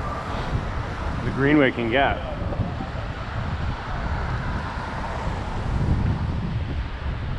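Strong, steady wind buffets the microphone throughout while cycling in New York City, with a brief voice speaking early on and gusts swelling near the end.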